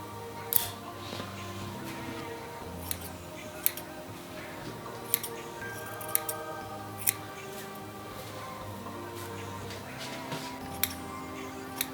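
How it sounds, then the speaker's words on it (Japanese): Scissors trim the hairline during a self haircut at home, giving a scatter of sharp, close snips at irregular intervals over a quiet background hum. "ハサミで上のこの生え際を整えていきたいと思います。"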